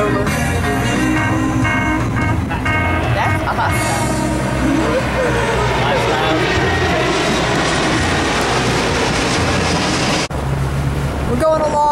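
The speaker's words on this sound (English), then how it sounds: "Comes a jet flying right over." A jet airplane passes loud and close overhead above a river boat in Fort Lauderdale, its roar swelling and sweeping across the whole stretch before cutting off abruptly near the end.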